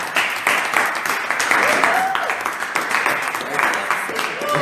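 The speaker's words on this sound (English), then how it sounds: "Let's give another round of applause for our panelists." A room full of people at a jazz panel event clapping steadily, with scattered voices and cheers mixed into the applause.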